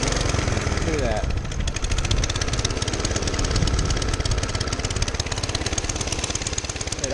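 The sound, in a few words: 1947 Whizzer motorbike engine idling after top-end rebuild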